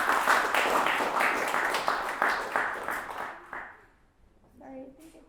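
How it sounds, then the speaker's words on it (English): A youth showcase audience gives a steady round of applause, dense clapping that holds for a few seconds and then fades out, with a voice speaking briefly as it dies away. "let's give her a round of applause"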